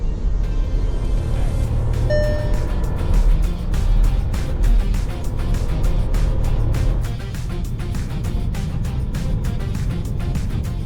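Volkswagen Taigun facelift with its 1.0-litre three-cylinder engine and 8-speed automatic, cruising in eighth gear at about 80 km/h, a steady engine and road drone heard inside the cabin with a few soft clicks and knocks.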